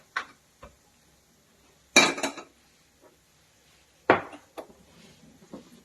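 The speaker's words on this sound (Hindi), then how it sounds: "यहाँ पे मैं गैस पे एक बर्तन रख रही हूँ" A few sharp metallic clanks and knocks, a pot being set down on a gas stove, with quiet gaps between the handling sounds.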